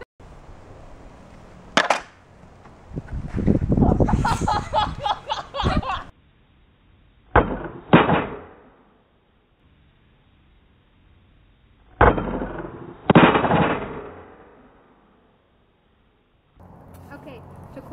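Homemade cookie catapult flinging a dessert, with sharp snapping clacks of the arm firing, followed by rattling clatter and a later repeat launch, close and loud, with voices talking between shots.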